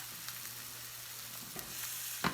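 Food browns in oil in a small frying pan, giving a steady, quiet sizzle and crackle throughout, with a couple of brief clinks or stirs near the end and no talking.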